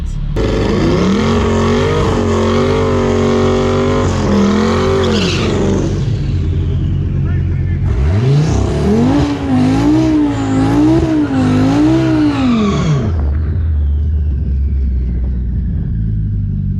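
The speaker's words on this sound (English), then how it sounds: "This Mustang rips down the track." A Ford Mustang tearing down a quarter-mile drag strip, its engine roaring loud and close with rising revs through several gear changes, a brief drop between pulls, then the roar fading as it pulls away.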